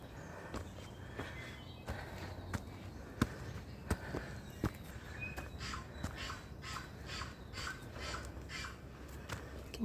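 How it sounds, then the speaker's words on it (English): Scattered bird calls ring out in a New Zealand forest reserve against a steady outdoor background, with sharp clicks and rustling steps close by. "You can hear the birds."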